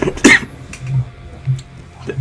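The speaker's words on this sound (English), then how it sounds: "if you hear me cough" A single sharp cough near the start, close and loud, followed by quiet rustling and a low hum.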